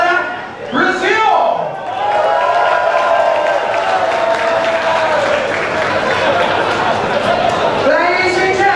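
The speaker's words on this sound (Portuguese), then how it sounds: "Aplausos para Brasil!" A loud, dense burst of audience applause and cheering greets Brazil at a stage show. It holds steady for several seconds with whoops and shouts mixed into the clapping.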